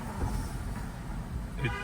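A car horn honks amid New York City street traffic, one short toot rising briefly near the end over a steady rumble of surrounding vehicles.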